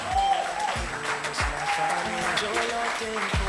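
Audience applause at a talent show, dense continuous clapping from a large crowd with a few sharp nearby claps and a voice speaking over it.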